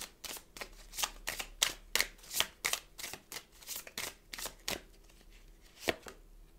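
Tarot cards being shuffled and drawn, a rapid series of crisp slaps and riffles in uneven rhythm, close and fairly quiet, with no talk.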